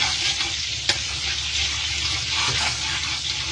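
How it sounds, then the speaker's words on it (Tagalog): Butter melting in a hot pan for gravy, a steady close sizzle and fry hiss filling the whole stretch, fairly loud with a faint clink. "Tunaw muna tayo ng butter."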